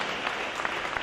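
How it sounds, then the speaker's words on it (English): Clapping from a crowd at a high school boys swim and dive meet, honoring the swim team seniors, a steady dense wash of hands with no voices over it. "Let's give everybody a round of applause"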